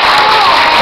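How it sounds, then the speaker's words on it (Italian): Applause and cheering from an audience at a Christmas shop-window awards ceremony, a dense, steady wash of clapping and crowd noise lasting under a second. "Grazie per l'applauso"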